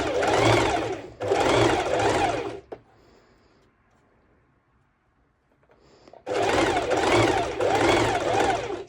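Sewing machine running bursts of zigzag stitches on dress fabric: two loud, steady whirring runs, a quiet pause, then two more runs, all close up.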